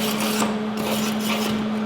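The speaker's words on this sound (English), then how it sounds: "clean off those tacks with our stainless steel wire brush using our MIG pliers to control the piece" A stainless steel wire brush scrubs the weld tacks on a MIG-welded wheel demo piece held in MIG pliers, giving repeated close raspy strokes over a steady background hum.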